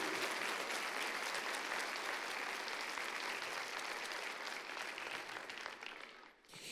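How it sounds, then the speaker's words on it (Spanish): A church congregation claps loudly and continuously in praise of Jesus, a dense roar of applause that holds steady and then tapers off near the end. "¿Cuántos le dan un aplauso bien fuerte a Jesús?"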